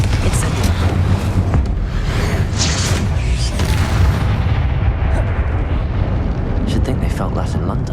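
Fiery spell blasts in Hogwarts Legacy, a Confringo fire explosion among other combat spells, roar as a dense, continuous wall of loud booming and crackling for the whole stretch, with a brief lull then more bursts near the end.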